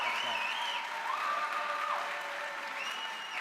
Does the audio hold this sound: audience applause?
yes